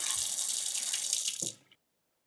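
Filtered water runs steadily from a tap on a Water2 undersink filter system, a close, even hiss of flow that cuts off abruptly near the end with a brief trickle.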